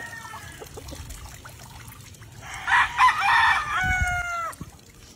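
A chicken being bathed with shampoo on a farm crows and clucks loudly and close by for a couple of seconds, over faint trickling and pouring water.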